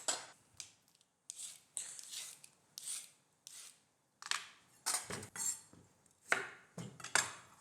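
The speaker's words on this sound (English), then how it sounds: "I'm just gonna grate the carrot." A large raw carrot is rubbed against a grater in quick, rhythmic rasping strokes, close and fairly quiet, each burst separated by short pauses while it is shredded for a siomai dumpling filling.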